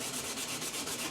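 An old boat windshield on a 1985 Pro-Line center console boat is sanded by hand, with a rapid, even back-and-forth rasp repeating in close, steady strokes.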